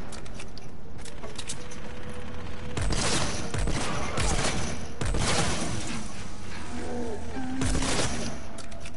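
A few sharp, spaced shots from a gun in a video game ring out against a steady background hum, with roughly three distinct bursts across the clip and no talking.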